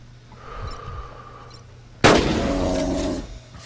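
A loud gunshot cracks out at the midpoint in the hunting game Carnivores Dinosaur Hunter Reborn, a sharp burst with a rumbling tail that lands as a headshot on a dinosaur, after quiet forest ambience.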